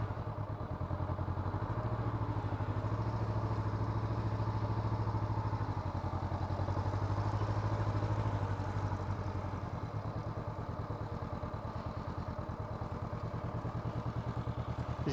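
A motorcycle engine idles and runs at low speed during slow-speed balance and U-turn riding practice, a steady close mid-pitched drone with slight rises as the clutch is worked, heard alone without talk.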